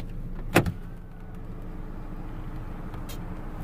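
A car door opens with a sharp mechanical clunk and latch rattle up close, followed by a quieter interior hum and a faint second click.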